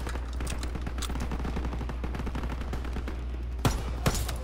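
Rapid bursts of automatic gunfire from a Call of Duty campaign mission, dense crackling shots throughout with two louder single blasts near the end, no voices over the shooting.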